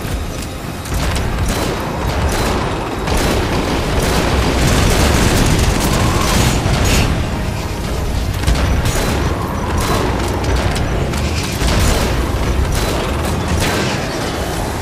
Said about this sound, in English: So you just have to shoot your way out before the spikes explode